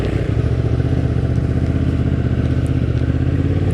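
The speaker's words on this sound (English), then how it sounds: "But I love the exhaust note on this one." A Honda Transalp motorcycle's exhaust holds a steady, loud, low rumble throughout, close to the listener, with no talking.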